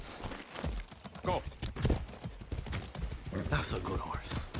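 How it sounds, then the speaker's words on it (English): Horse hooves clip-clop in Far Cry 6, a rhythmic trot of hoofbeats mixed under game dialogue and voices throughout. "That's a good horse."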